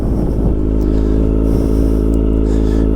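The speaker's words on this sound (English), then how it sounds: "That's about where my bike rides at without bogging down" A motorcycle ridden slowly at about 6 mph, fully off the clutch, gives a steady low engine drone with a constant rumble, close and continuous with no revving.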